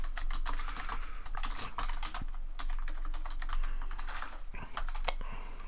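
Rapid clicking of fingers typing on a computer keyboard, dense irregular keystrokes in quick bursts, close and crisp with faint background hum.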